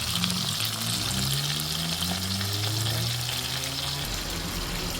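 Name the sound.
escovitch sprat fish frying in oil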